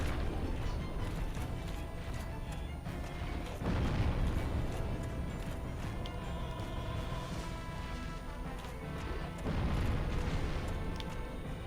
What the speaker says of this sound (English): The explosions are always right next to me.